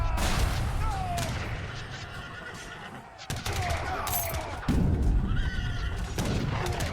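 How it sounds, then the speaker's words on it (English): Horse-drawn artillery from the Age of Empires III video game, with horse whinnies and clip-clopping among bursts of gunfire and battle noise, steady and fairly loud throughout. "And there goes the little horse-drawn artillery thing."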